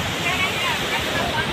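The flooded Sakri river in Bhojpur rushes past in a loud, steady roar of churning water, broadband and unbroken, close by, with a voice speaking over it.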